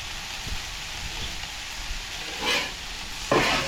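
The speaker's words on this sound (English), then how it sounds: "And just stir it." Food sizzles in sesame seed oil with soy sauce while being stirred at a campsite, a soft steady frying hiss with a few scraping stirs and louder bursts near the end.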